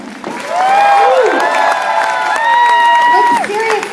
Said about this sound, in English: we want to give a really big round of applause to the costumers